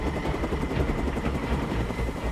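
A rescue helicopter hovers overhead during a stretcher winching operation at a burning building in Marseille, its steady rotor thrum loud and continuous throughout with no voices.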